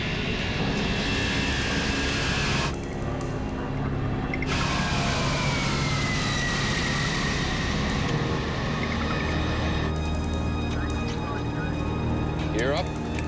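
Aircraft engines throttle up for takeoff on a departure from a US base during the Vietnam War, a loud continuous roar that holds steady and builds, with voices talking over it.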